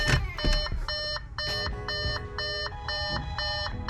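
An aftermarket backup camera system installed in a 2014 Audi A4 beeps, a steady series of regular, evenly spaced electronic tones that repeats in a clear pattern over low cabin noise.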